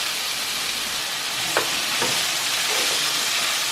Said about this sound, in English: now that this second batch of meat has seared